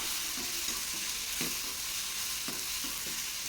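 Mutton curry masala with coconut sizzles steadily in a hot pan, with a few soft spatula stirs over a constant loud hiss.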